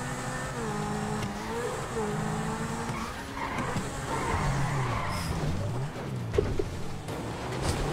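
A car in GTA V, a Zentaur, handbrake-turns and skids across grass, its engine droning and tires squealing steadily over several seconds, with game background noise.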